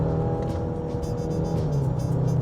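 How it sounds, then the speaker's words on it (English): Inside a 2025 Genesis GV70 2.5T, the turbo four-cylinder engine drones steadily with a brief drop in pitch as a paddle-shifted upshift comes through. "If I upshift, let me upshift again."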